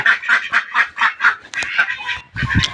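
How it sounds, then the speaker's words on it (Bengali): Farm ducks from a small flock of twenty quack loudly and close, a quick rhythmic run of about a dozen calls followed by a short pause and a final noisy burst. "আমার হেনে বর্তমান বিশটা হাঁস আছে এই বিশটা হাঁস দিয়ে আমি খামার করার চেষ্টা করতেছি"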